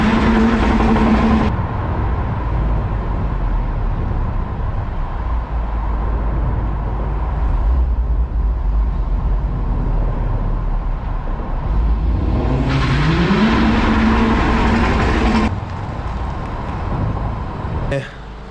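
A Honda Civic FL5 Type R engine revs in short bursts, rising and falling in pitch over a steady drone of car noise, with a voice talking intermittently.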